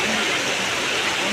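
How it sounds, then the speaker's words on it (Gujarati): Water rushing with strong force, a loud dense broadband roar that is continuous and close for the whole brief moment. "બહુ પાણી ફોર્સમાં છે."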